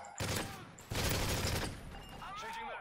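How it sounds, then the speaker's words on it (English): A rapid barrage of loud explosions and gunfire from Call of Duty: Modern Warfare 3 Survival mode on the Village map, with two dense blasts followed by a fading rumble and whistling debris. "Wow, that's a lot of explosion."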